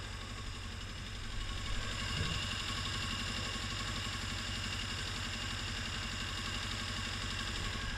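A Honda CBR600F2 motorcycle engine idles close by with a steady, even mechanical drone, with no sign of it cutting out, and no talking.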